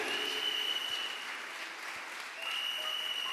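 A church congregation applauds during a worship service, a steady, full wash of clapping that runs the whole time with a faint held tone beneath it.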